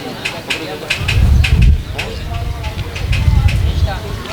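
Pigeons at the Saddar Sunday pigeon market in Karachi chatter and coo in short repeated calls amid a busy outdoor crowd, with people talking loudly nearby throughout.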